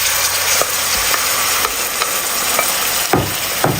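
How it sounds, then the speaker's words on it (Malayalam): Crushed shallots fry in hot oil with chili powder, giving a loud continuous sizzle close up, with occasional scraping stirs of a spoon against the pan. "ഇനി ഇതിലേക്ക് ഉടച്ച് വെച്ച് ഉള്ളി ചേർത്ത് കൊടുക്കാം."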